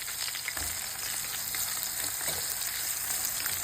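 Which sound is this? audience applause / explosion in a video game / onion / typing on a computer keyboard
onion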